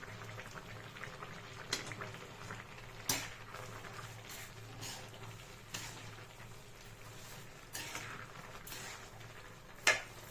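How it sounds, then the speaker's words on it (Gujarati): Carrot halwa with sugar and dry fruit simmers in a pan, giving a steady soft bubbling and sizzling, with occasional light scrapes and taps of a spoon as it is stirred. "હવે તેને મિક્સ કરતા રહેવાનું છે"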